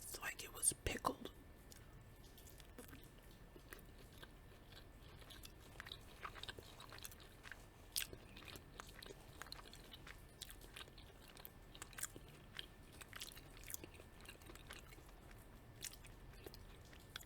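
Soft, close-up chewing of pickled stuffed grape leaves filled with rice, with moist squishing bites and faint crunches repeating irregularly against a quiet background, with occasional whispering.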